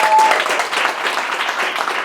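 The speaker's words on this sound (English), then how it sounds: "Can we give a round of applause for our speakers for the opening of Give It All?" Audience applause for the speakers at an evening opening event in Sofia, a brief loud burst of many hands clapping together in a dense, even wash.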